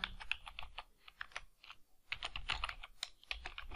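A password is typed on a computer keyboard in quick, uneven bursts of crisp key clicks, close and fairly quiet, with one short pause midway.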